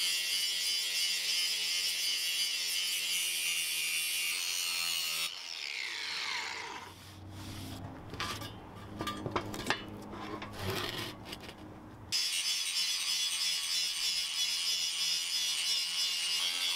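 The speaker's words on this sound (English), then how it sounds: "I'm gonna get the galvanized coating off this square tube." A power tool grinds hard against a galvanized square steel tube to strip off the coating, a loud, bright, continuous abrasive whine. It breaks off for several seconds of scraping and handling noises, then starts again.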